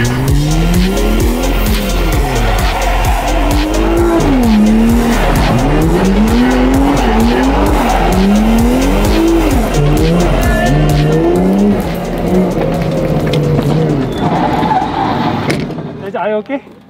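Car drifting on a track with long, loud wavering tire squeals over a revving engine, sustained and close, with voices talking faintly in the background.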